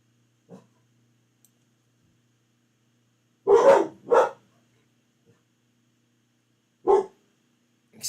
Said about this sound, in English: Excuse my dogs for going fucking batshit crazy.